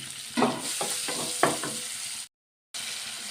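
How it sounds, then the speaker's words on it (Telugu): Tempering spices with onion and green chilies fry in hot oil, a close, loud sizzle broken by several stirring strokes and a brief silent gap near the end. "పోపు దినుసులు కొంచెం వేయించుకుందామండి."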